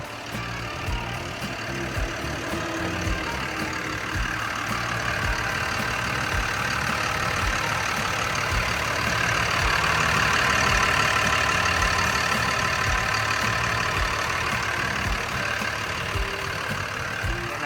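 A Caterpillar 938F wheel loader's six-cylinder turbo diesel engine idles steadily close by, a continuous low rumble with a faint mechanical clatter and no voices.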